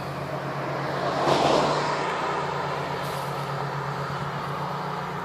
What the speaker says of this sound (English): Then cars come flying by.